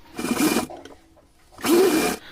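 Two short bursts of a sewing machine stitching cotton fabric, the pieces overlapped about 2.5 inches, with a brief pause between runs; close and fairly loud, no voices.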